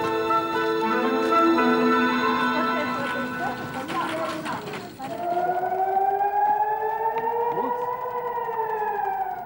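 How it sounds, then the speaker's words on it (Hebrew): Civil defense air raid siren sounding in Ofakim, Israel: wailing, rising and falling harmonic tones that hold loud and steady throughout, with some voices nearby. "כשנשמעת אזעקה בתל אביב,"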